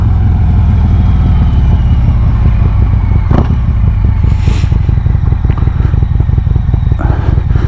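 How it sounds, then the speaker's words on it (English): A 2020 Harley-Davidson Road Glide Special with a Stage 2 114 engine idles in cold weather, a loud, close, steady rumble of rapid exhaust pulses, with one brief clatter partway through. "Bike is running crisp in this cold weather."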